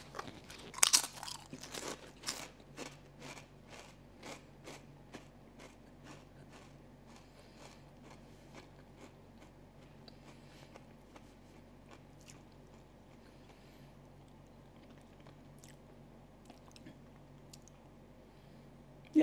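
Rapid, sharp crunches of an extra crunchy prawn-flavoured snack from 7-Eleven, loud and close at first, then settling into softer, steady chewing over a low background hum.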